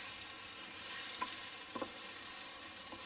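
Bone-in keema fries in a pan, an even low sizzle with a few soft spoon scrapes and taps, close and quiet.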